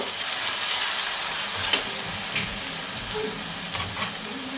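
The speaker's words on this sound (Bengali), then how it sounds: "এটাকে নাড়াচাড়া করে একদম মজমজে করে ভেজে নেব" Shredded potatoes fry in hot uncovered oil for Bengali jhuri aloo bhaja, a steady close sizzle broken by a few sharp scrapes and clatters of stirring.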